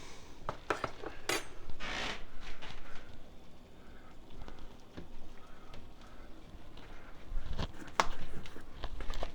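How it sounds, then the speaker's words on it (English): Farm-fresh eggs are lowered into a pot of boiling water on a stovetop, giving sharp metallic clinks and knocks of a spoon against the pot over a soft rolling bubble, with a few louder taps near the end. "We're going to go ahead and gently lower the eggs into the boiling water."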